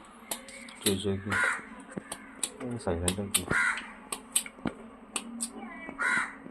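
Several crows caw loudly and repeatedly nearby, harsh calls in irregular bursts, mixed with clatter and a voice talking in between.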